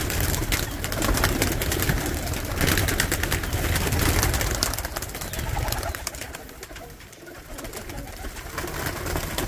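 A flock of pigeons kept in a fancier's collection coos continuously amid a dense, noisy background, with the soft calls blending into a steady wash of sound.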